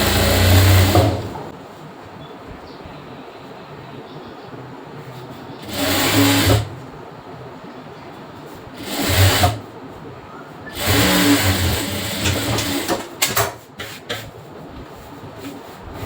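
Sewing machine stitching the folded back of a blouse, running in several loud, close bursts of steady whirring separated by pauses.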